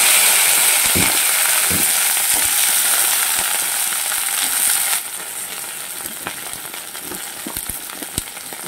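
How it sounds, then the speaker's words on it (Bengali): Sliced okra frying lightly in oil in a pan, a constant close hiss that drops in level halfway, with scattered soft clicks and taps of stirring. "এবার যা তেল আছে ওই তেলেই আমি ঢেঁড়সটাকেও ভেজে নেব।"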